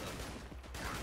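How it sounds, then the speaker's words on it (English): Shotgun blasts fired at point-blank range in a modded Fallout game, a dense, loud burst of gunfire filling the whole second with a brief dip near the middle. "We can't be missing point blank shotgun shots."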